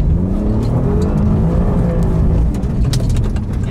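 An Alfa Romeo Giulia Quadrifoglio engine revs hard and close, a loud sustained growl that swells and holds throughout, with no voices.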